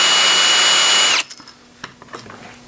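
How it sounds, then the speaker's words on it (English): Power drill fitted with a chamfer bit whirring loudly on a wooden hexagon bird house for about a second, then spinning down and stopping, followed by a few faint handling clicks. "And a little chamfer bit so that I can just put a little chamfer"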